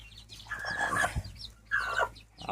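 Large hens clucking together while they feed, a few short bursts of clucking calls close by with brief pauses between.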